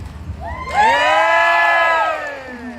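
Fans of a singer at a Thai country music contest raise a sudden, loud cheer of whoops and shouts that holds for a couple of seconds before fading.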